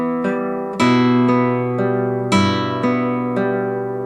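Classical guitar picks a chord arpeggio from Romanza, thumb and ring finger plucking steady repeated notes over a held chord, close and clear with no talk.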